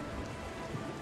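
Rain falling in the Tower of Fantasy video game, a dense even patter of drops on surfaces, steady and fairly soft, with no talking over it.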